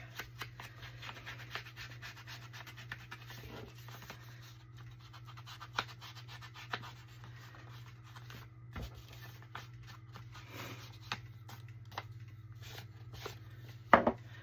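A hand tool scrapes and rubs along the edges of a paper envelope for distressing, a steady, faint, close-up scratching texture with occasional soft taps, heard without any talk.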